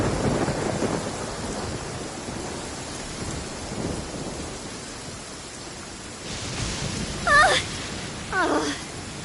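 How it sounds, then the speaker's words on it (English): Steady rain hisses throughout, with a low rumble of distant thunder near the start and a couple of brief sharper noises toward the end. "It's raining again."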